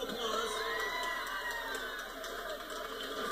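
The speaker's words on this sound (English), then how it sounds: "Give her a big round of applause." A crowd at a Westfield shopping centre cheers and whoops for a prize winner, with children's shouts and excited voices forming a continuous, moderately loud din.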